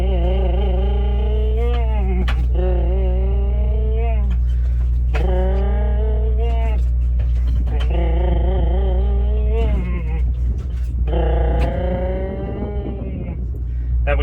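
A truck engine with an overdrive 15-speed transmission revs up and drops back again and again as it works through the gears, a steady loud drone with rising whines at each shift.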